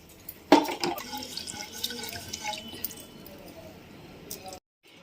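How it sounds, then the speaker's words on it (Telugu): A glass of rice gets rinsed in a little water in a cooker pot for pongal, with trickling, dripping and light clinks of grains and vessel, a sharp splash near the start, then fading to silence. "ఇదేంటంటే కొంచెం వాటర్ వేసుకొని కడుక్కోవాలి"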